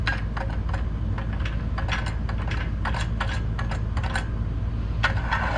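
A socket going onto a driver while building a CNC router table, with a steady run of quick, close ratcheting clicks over a constant low hum, no talk.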